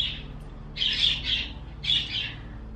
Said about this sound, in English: my birds are singing right now, so hopefully it's not too loud.